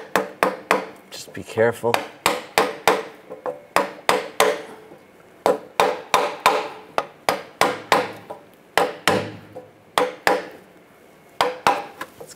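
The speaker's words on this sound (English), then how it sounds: "If you need to, you can use a block of wood, just tap it on." A block of wood taps an exhaust pipe into place on a 2004-2009 Toyota Prius during a catalytic converter replacement, giving dozens of sharp, close knocks in quick irregular bursts, with a brief spoken warning.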